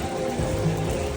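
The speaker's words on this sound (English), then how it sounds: "It's nice when you can actually enjoy the rainfall." Steady rain in Laos patters and splashes around a hostel pool, a dense, even wash of water sound, close and continuous with no voices.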